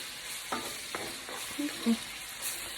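Sausage browns in a pan for gravy, a steady soft sizzle of frying with a few scraping stirs of a utensil against the pan, close up and without talk.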